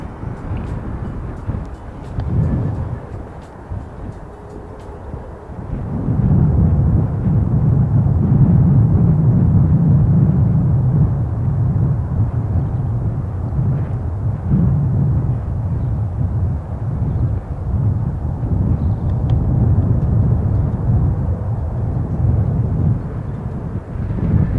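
Jet engines of a Qantas airliner swell from a low murmur into a loud, sustained deep roar that holds steady for the rest of the stretch.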